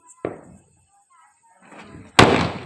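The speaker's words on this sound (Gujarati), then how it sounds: "ફૂટા ફટાકડા ફૂટા" Diwali firecrackers go off outdoors in two sharp, loud bangs. The first comes early with a short fading tail, and a second, stronger burst follows near the end after a quiet gap with faint voices.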